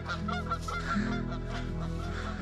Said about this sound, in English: More geese overhead.